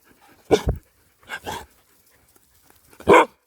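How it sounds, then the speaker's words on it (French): A husky barks three times on command in short, separate bursts with pauses between, close and fairly loud, with soft breathing in the quiet gaps. "je vais le faire aboyer sur commande"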